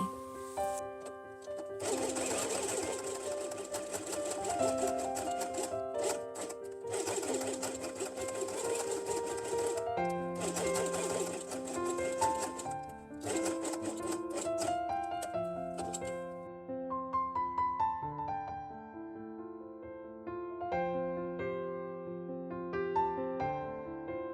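Electric sewing machine stitching fabric pieces for a dinosaur quiet book runs in several bursts of rapid whirring, separated by short pauses, moderately close and quiet.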